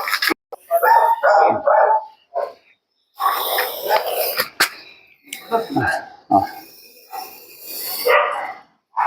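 A dog barks repeatedly in short bursts, close by, mixed with people talking and calling out.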